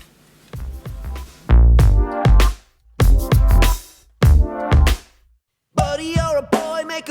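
A drum groove of bass drum and snare repeats in loud, heavy blocks with brief gaps between them, ending in a brighter, tonal passage.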